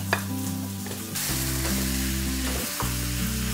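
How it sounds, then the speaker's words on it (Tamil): Pieces of pork fry in hot oil for a Tamil pork curry, sizzling steadily and loudly up close with no voices. "இந்த பண்டி துண்டுகள் வந்து இந்த எண்ணெயில் வந்து நல்லா பொரியணும்."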